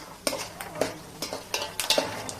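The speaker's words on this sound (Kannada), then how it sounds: "ಎಣ್ಣೆ ಕಾಯಿದ್ಮೇಲೆ ಬೆಳ್ಳುಳ್ಳಿ ಹಾಕಿ ಶೇಂಗದ ಕಾಳು ಹುರ್ಕೊಳ್ತಾ ಇದ್ದೀನಿ" Peanuts and garlic roasting in hot oil, with a spoon or spatula scraping and clinking against the pan in quick, irregular strokes over a faint sizzle.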